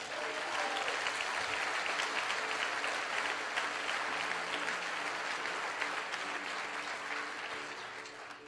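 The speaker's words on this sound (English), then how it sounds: "Give yourselves a round of applause." A crowd applauding continuously at a Les Brown motivational talk, dense clapping that holds steady for several seconds and then begins to fade toward the end.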